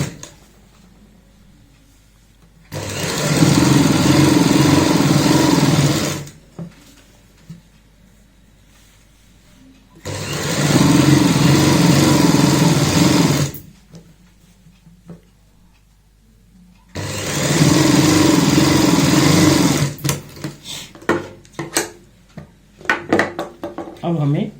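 A sewing machine stitches the side seam of a designer baby frock in three loud, steady runs of several seconds each, separated by pauses with light handling clatter.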